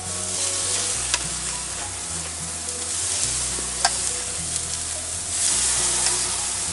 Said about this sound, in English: You can hear that nice sizzle, that's what you're looking for.